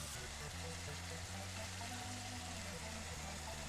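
White wine poured into a pan of sausage and mushrooms for Italian pasta, raising a steady, faint sizzle and bubbling that runs on evenly throughout.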